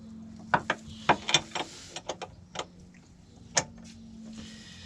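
A ratchet with a 26mm socket tightens the fuel filter on a 1997–2009 petrol Saab 9-5, giving several sharp, close clicks in short irregular bursts, then a single later click over a quiet background.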